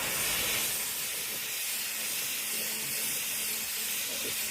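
Steady hiss of a water spray rinsing a grooved surface during a renovation cleanup, continuous and close for the whole stretch with no pauses.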